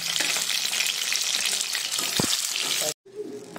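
Chicken pakoras sizzle and crackle steadily in hot oil, close and continuous, with a brief stir before the frying cuts off near the end and a quieter background follows.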